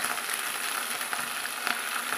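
Curry leaves and ponnanganni greens sautéing in a pan, a steady quiet sizzle with faint crackles and a soft pop near the end, no voices.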